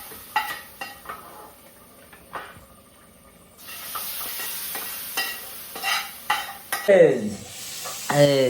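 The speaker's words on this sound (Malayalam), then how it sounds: "അച്ചാറിൽ ഇത് അങ്ങോട്ട് അങ്ങോട്ട് മിക്സ് ആക്കുന്നുണ്ട്" Pickle masala being stirred and mixed in a pan, giving scraping stir strokes over a soft sizzle, with clattering pot sounds and louder bursts toward the end.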